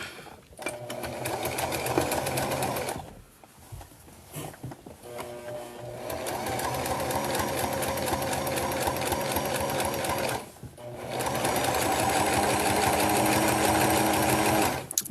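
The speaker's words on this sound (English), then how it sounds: "most of this video is just going to look like just me sewing" Close up, a sewing machine stitches fabric for a sewing machine organizer in long steady whirring runs with a rapid mechanical patter, broken by two short pauses.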